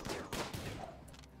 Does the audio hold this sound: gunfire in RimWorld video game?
yes